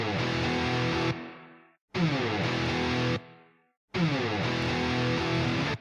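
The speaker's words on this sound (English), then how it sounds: "Okay, you have also a reverb included here" Electric guitar run through a Bogren Digital amp plugin with reverb added, playing three loud distorted chord phrases, each cut off and followed by a short reverb tail decaying into silence.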